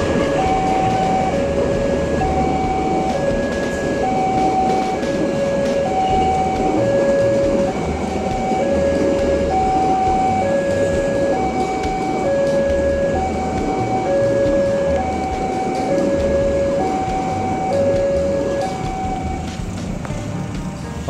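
A local Bandung Raya train runs straight through Andir station toward Cicalengka, its loud, continuous rumble and rail clatter persisting throughout, with a repeating two-tone chime or crossing signal ringing steadily over the passing cars.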